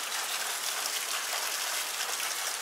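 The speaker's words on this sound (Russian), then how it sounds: "Видите, какой у нас дождь прошел. Сейчас он идет, но немного притих." Rain pours down steadily at a country dacha, a dense, even hiss of drops on surfaces that stays loud and constant throughout with no voices.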